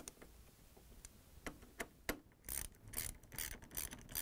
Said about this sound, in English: I'm using a ratchet with a 3/8 head on it.